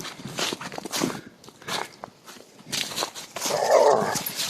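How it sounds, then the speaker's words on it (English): Dogs scuffle and bark outdoors beside a mountain bike race track on a trail walk, heard as rough growls and yaps mixed with footsteps and rustling, moderately close. "Past the quarreling dogs."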